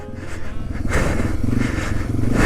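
A Yamaha TW200 motorcycle engine labors steadily while riding through deep snow after a big storm, a loud, close, continuous rumble that swells slightly toward the end.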